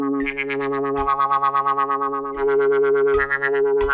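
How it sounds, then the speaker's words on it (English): Kalimba notes played through the vocoder synthesis mode of an Arturia MicroFreak synthesizer, giving a buzzy, robotic, pitched tone over a steady drone, with a handful of plucked attacks spread across the phrase and no talking. "now I'm going to play the kalimba through the vocoder synthesis mode on the MicroFreak"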